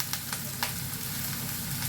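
Dry fruits sizzling in hot fat in a single pot, a soft steady frying hiss with a few light clicks and stirs near the start, quiet and close, no talking.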